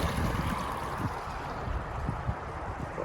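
Water drains from a pond through a pipe, with air gurgling and bubbling out in a dense, continuous rush, close and fairly loud, with no voices.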